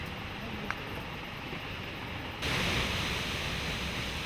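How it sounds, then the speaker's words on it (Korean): Huka Falls near Taupo, New Zealand, where lake water pours into the Waikato River, gives a broad, steady roaring rush that swells louder partway through and stays continuous. "내가 찾아간 곳은 타오포 시내에서 북쪽으로 조금 떨어져 있는 후카 폭포."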